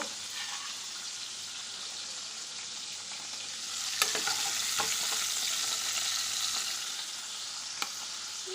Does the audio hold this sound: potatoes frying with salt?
yes